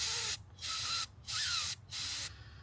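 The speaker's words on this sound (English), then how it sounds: "That's just compressed air." Compressed air blasts onto a Honda EU2000i portable generator that only runs with the choke on: three loud, close hissing bursts of about half a second each, separated by short quiet gaps, with no talking.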